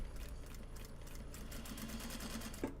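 A sewing machine stitches kimono fabric at construction stitch length, a faint, steady whirring hum with a fast even rhythm running throughout, close but quiet.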